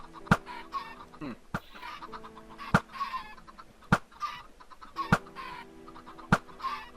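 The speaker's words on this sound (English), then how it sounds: "that one that got glitched in front of you spawned 4 chickens" Minecraft chickens cluck repeatedly in short bursts, with sharp percussive clicks recurring at regular intervals in between.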